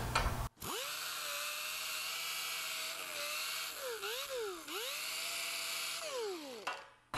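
A Fairmont steel body hammer is held against a spinning 80-grit grinding wheel, giving a loud, steady high whine whose pitch dips and swoops as pressure changes, running for several seconds without speech.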